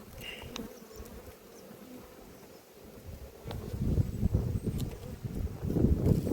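A honeybee colony at an apiary during swarming season makes a continuous close buzz of many bees that grows louder and denser toward the end.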